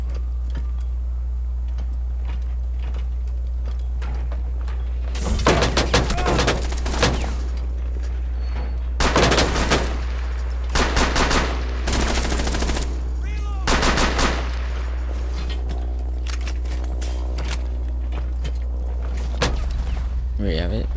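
Bursts of rapid gunfire ring out during a competitive video game match, with several clustered volleys over a steady low hum and a commentator talking throughout.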